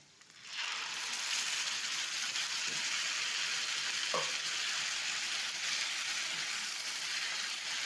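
Ground ridge gourd peel paste sizzling hard in a hot pan, a steady broadband hiss that swells in quickly and holds loud and close, with a few faint scrapes of stirring underneath.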